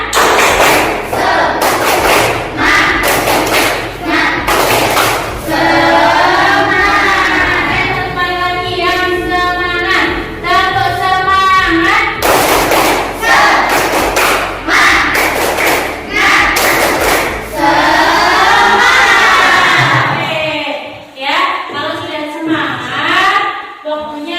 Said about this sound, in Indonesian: alhamdulillah kita tepuk semangat dulu